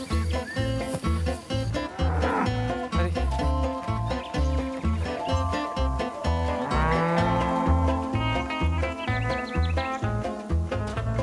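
Cattle used to a nearly wild life on open rural French land moo loudly and repeatedly while being rounded up, with voices calling and talking over the herd.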